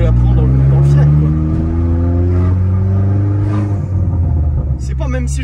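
A loud Opel Corsa D OPC with a full straight-pipe exhaust drones steadily while driving along, its deep booming rumble holding close and constant under someone talking.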